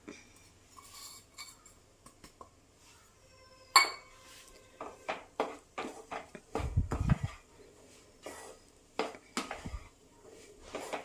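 A spoon scrapes and clinks against a pan while rava ladoo mixture with cashews, raisins and ground cardamom is stirred, giving irregular metallic knocks and scrapes, one sharper clink near the start, with no voice.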